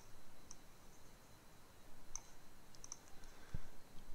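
Faint, sparse computer mouse clicks while control-clicking in a game development editor: a handful of light, isolated ticks spaced irregularly over quiet background hiss, with no talking.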